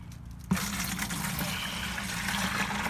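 Water is poured into a container, beginning abruptly after a brief quiet moment and then running as a steady, close, splashing stream with no talking.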